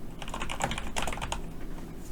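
Rapid typing on a computer keyboard while entering a Hancom Office word-processing exam document, a steady run of close, crisp key clicks with a couple of louder strokes, no voice.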